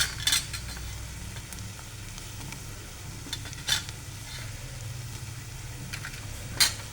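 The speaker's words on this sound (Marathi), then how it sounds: "ते पण मस्त असे परतून घ्यायचे" Small potato pieces sautéing in a pan for soda poha, a quiet steady sizzle with a few sharp scrapes of a stirring spoon against the pan.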